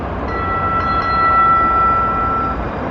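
Interior of a Norfolk Tide light rail train in motion, a steady rumbling ride noise with a sustained high whine running through most of the stretch, no voices.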